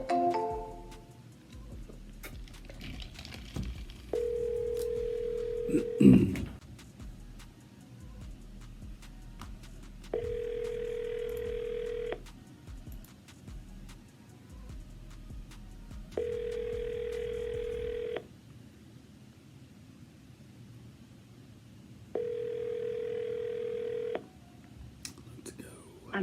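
Telephone tones sound during repeated redialing of a real-estate seller: a burst of dialing and then a regular series of four evenly spaced ringback tones, with brief talk near the start.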